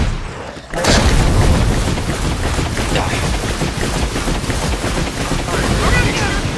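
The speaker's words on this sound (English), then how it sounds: "My gun won't ever stop shooting." A loud, unbroken stream of rapid weapon fire in State of Decay 2 booms on for several seconds after a brief quiet start, dense and steady with little let-up.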